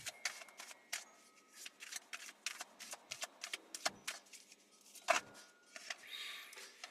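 Tarot cards shuffled by hand to draw a card, with a steady run of crisp riffling and flicking bursts, close and fairly quiet, alone without talk.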